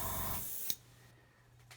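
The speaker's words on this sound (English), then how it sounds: "So just going to spray this on here now." An airbrush sprays paint in a short hissing burst that stops abruptly, followed by a quieter low hum.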